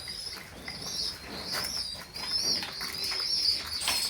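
A pair of racing pigeons gives soft, close coos, with brief wing flaps and faint chirps over a quiet background.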